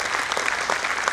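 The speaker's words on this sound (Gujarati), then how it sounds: "જોરદાર તાળીઓના નાદથી વધાવી" A brief burst of enthusiastic audience applause at a credit society's annual general meeting and musical night, dense clapping throughout the short moment.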